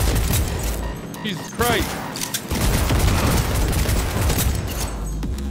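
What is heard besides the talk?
smart gun gunfire in video game Cyberpunk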